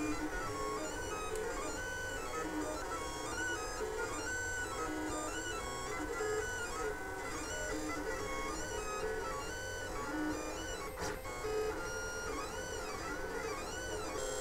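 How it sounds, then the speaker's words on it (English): Lulzbot Mini 3D printer running a print, a steady continuous mechanical whir with shifting stepper-motor tones throughout, moderately quiet and with no voices. "we should be able to see the printer is setting off and doing the print."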